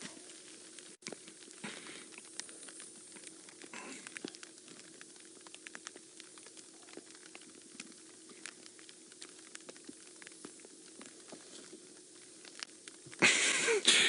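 Light, scattered raindrops patter steadily on the rain covers of a safari vehicle, soft crackling taps spread across the whole stretch, with a louder rustle near the end.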